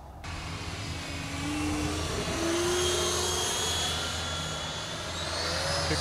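Freewing Avanti S electric RC jet flying with its afterburner lit, a continuous high whine of the ducted fan passing overhead with the pitch slowly rising and shifting, heard from the ground at moderate distance.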